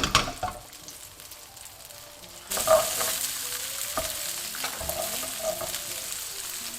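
Capsicum hits a hot wok for a Chinese sweet and sour pork dish, the quiet pan suddenly bursting into a loud steady sizzle midway, with light scrapes and clinks of stirring over it.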